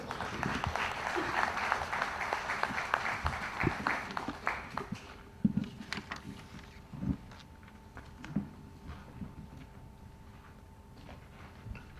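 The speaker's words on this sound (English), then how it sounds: "Let's put our hands together in welcoming Mr. Peter Hall." An audience at a middle managers' conference applauds a speaker. The clapping is dense and loud for about five seconds, then thins to scattered, fading claps.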